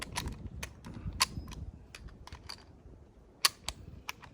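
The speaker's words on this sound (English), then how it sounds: "To load it, you can just load it by hand." Rounds pressed by hand into the internal magazine of a Yugoslav M-24/47 Mauser rifle, a sparse run of quiet metallic clicks and snaps spread over a few seconds, close and without talk.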